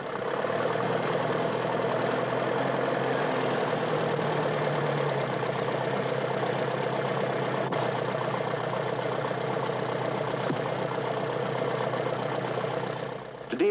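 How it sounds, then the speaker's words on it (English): A medium-powered tractor fitted with hydraulics works a drain sapper on heavy clay land, its engine holding a steady, close, continuous drone with a knocking edge throughout. "Any medium-powered tractor that is fitted with hydraulics can work the sapper."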